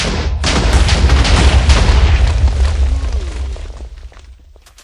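A loud booming explosion in Minecraft erupts and rumbles on for several seconds, slowly fading with crackling debris.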